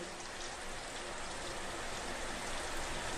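Steady rain falls outdoors: a dense, even hiss of drops with no pauses and nothing else standing out.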